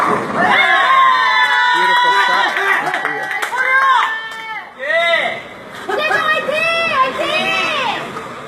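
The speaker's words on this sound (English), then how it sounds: "I like that cheer." A crowd at a tenpin bowling championship shouts a rhythmic, chant-like cheer in unison, loud and close, rising and falling in bursts over several seconds.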